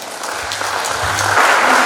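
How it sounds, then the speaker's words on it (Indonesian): Graduating high school students applaud their parents during a graduation ceremony at SMA Stella Maris, a steady wash of clapping from a large group that swells slightly louder toward the end. "berikan tepuk tangan untuk mereka"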